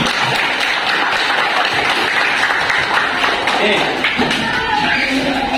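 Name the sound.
group applause in class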